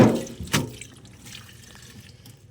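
Freshly picked leafy vegetables washed under running water at a sink: a brief gush and splash at the start, then fading trickles and small drips.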